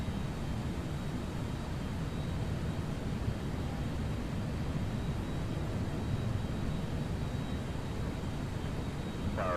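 Toliss A321N jet taking off in X-Plane 12, a steady, continuous broadband engine roar with a faint high whine, even and unbroken throughout.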